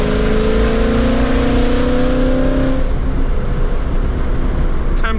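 Performance car on Michelin front and Toyo rear tires with a dual-clutch transmission, engine droning loud and steady while driving to warm the tires, then the tone drops as it eases off.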